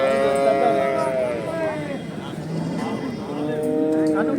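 Cattle at the Manapparai cattle market low in several long, loud moos that overlap and rise and fall, set against a busy market background with voices.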